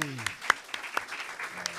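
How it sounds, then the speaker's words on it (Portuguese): An audience at a lecture on people with autism spectrum disorder applauds a speaker. The claps are scattered and moderately loud, with a few sharp standout hits, while a voice talks over them. "Aplaudam a Camila"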